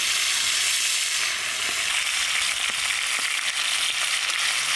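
Fish frying in hot oil for a big home-cooked rohu fish meal, a steady loud sizzle and crackle running throughout with faint stirring and scraping, no talk.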